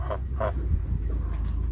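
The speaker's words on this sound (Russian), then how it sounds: "Валюш, почему нам плиточник Федор привез гуся?" Two short goose honks ring out close by, against a low rumble of background noise.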